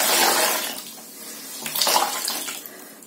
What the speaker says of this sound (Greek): βάζω εδώ στο λικανάκι ζεστό νερό